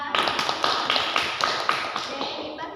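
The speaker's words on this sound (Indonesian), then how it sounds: "Beri tepuk tangan kepada Nita." Classroom applause for a student named Nita: a short burst of scattered, brisk clapping from a group, steady rhythm fading slightly toward the end, no talk.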